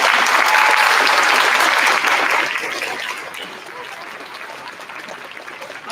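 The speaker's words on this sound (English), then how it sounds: "Let's have a big round of applause for our Harrington staff." Audience applause at a third and fourth grade school concert, loud and steady clapping from a crowd that fades gradually to a lighter patter.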